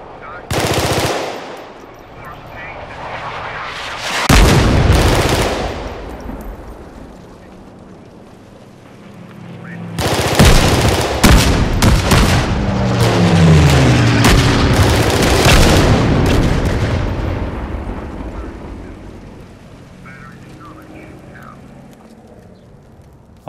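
Rapid automatic weapon fire and heavy explosions in an Unreal Engine 5 game, loud and close, with dense bursts of shots separated by booming blasts and a lingering ambient rumble between them.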